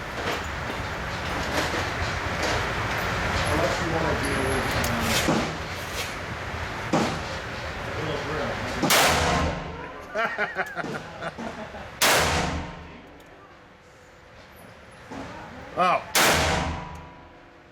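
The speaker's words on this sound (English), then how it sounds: "big gun with a big bang, and it's a snub nose." Snub-nose revolver firing heavy magnum rounds at a shooting range: several loud, booming shots spaced a few seconds apart, each with a sharp crack and echoing tail, after a stretch of loud rumbling background, with a brief exclamation from a person.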